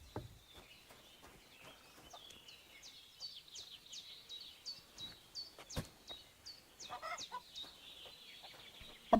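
Chickens cluck and chatter in a village in the video game Kingdom Come: Deliverance II, a rapid string of close, busy calls with occasional sharp clicks.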